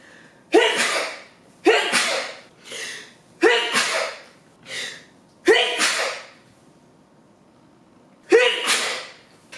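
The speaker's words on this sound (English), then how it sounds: "I'm about to sneeze, and I don't want to." Six sharp sneezes in a row, close and loud, each a sudden burst with short gaps between, the last after a longer pause.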